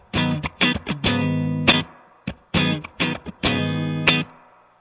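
Boss RE-202 Space Echo pedal adding reverb and echo to a harmonically rich played instrument, loud, with repeated phrases whose notes keep ringing and trailing off between bursts, alone with no voices.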